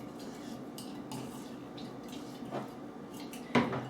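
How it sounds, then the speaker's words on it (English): Microwave mug cookie batter is mixed with a spoon in a mug, soft scraping and light clinks at an irregular pace, ending in a sharper tap against the rim, faint and close with no talking. "mix that up so it's well combined"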